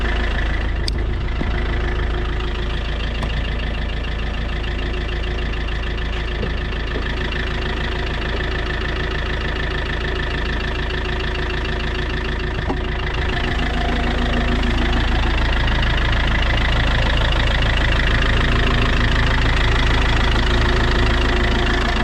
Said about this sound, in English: Give her a quick rev, don't worry.